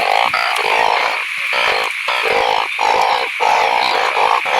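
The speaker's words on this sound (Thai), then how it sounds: "มันจักเสียงเขียดจักกบ" Loud, dense chorus of frogs croaking close by in a rainy forest at night, pulsing in rapid overlapping bursts with brief gaps, with no talk over it.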